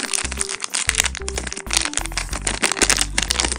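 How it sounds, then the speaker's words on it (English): A small plastic blind bag holding a Littlest Pet Shop figure is torn open by hand, giving a steady run of loud, close crinkling and crackling over soft background music. "let's open the little blind bag"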